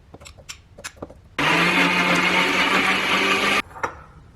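An electric blender pureeing tomatoes for a chickpea curry base runs in one loud, steady two-second whir, with softer kitchen clatter before and after it.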